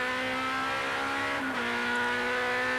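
A touring race car accelerates during a wet European Touring Car Championship race at Zolder in 1988, its engine note rising steadily with a brief dip as it shifts up a gear, loud and sustained with no talk.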